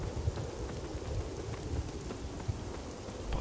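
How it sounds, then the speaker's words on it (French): Steady rain with low rumbles of a light thunderstorm in the misty dark-fantasy game Lords of the Fallen, a continuous wash of drops and faint thunder held at a constant level throughout. "avec la petite brume et le petit orage, je trouve l'ambiance plutôt, plutôt pas mal"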